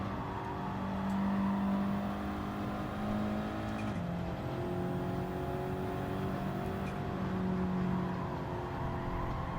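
Race car engine in the Gran Turismo video game, revving steadily as it climbs through the gears, with a brief dip around a shift midway; loud, continuous whine and no talking.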